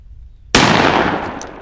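A single loud combat shotgun blast goes off abruptly after a quiet start, followed by a sharp ringing decay at close range.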